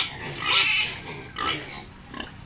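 Pigs grunt and snuffle while feeding, a few close, rough bursts rising and falling with short pauses between, with no talk over them.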